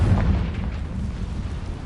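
A Confringo blasting spell explosion in Hogwarts Legacy, a deep rumbling boom that hits at once and decays over a couple of seconds, loud with heavy low end.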